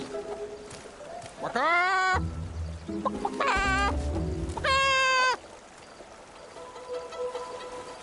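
Loud, drawn-out clucking calls from a giant creature in Infinity Nikki rise and fall in three bursts, like a huge bird, over low background rumble and faint talk.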